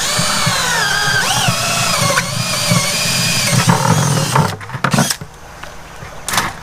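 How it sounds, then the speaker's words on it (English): Power drill bores a large hole through a plastic bucket after its handle is removed, a steady whining motor with rising and falling pitch as the bit bites, then several short bursts of drilling near the end. "Then we're going to just drill a big hole in."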